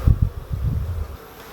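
Honeybees buzzing in an opened nucleus hive on a hot day, a low humming drone with a few loud close bumps and handling rustles early on, then fading into a quieter steady hum.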